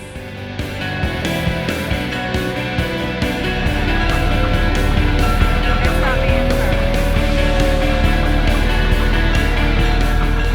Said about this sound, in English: We've got all of the antique cars from the parade.